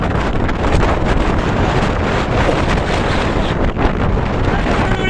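Strong onshore wind on a fishing coast batters the microphone with a loud, constant roar and gusty buffeting, with surf likely mixed in beneath.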